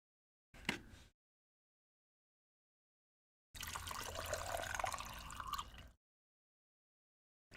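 Water trickles and splashes quietly, starting with a short spill and then running in a steadier stream for a couple of seconds, heard close up with no voices.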